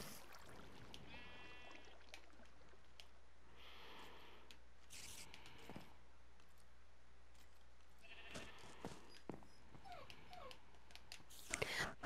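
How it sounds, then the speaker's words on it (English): A pet dog whines and whimpers in a series of thin, high, wavering cries, fairly quiet and broken by pauses, with a faint voice in the background. "He's just whining because I'm not playing with her."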